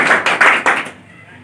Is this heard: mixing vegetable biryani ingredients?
no